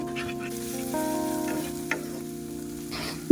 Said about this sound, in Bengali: মশলাটা ততক্ষণ কুক করব যতক্ষণ না মশলা থেকে তেল ছাড়া শুরু করবে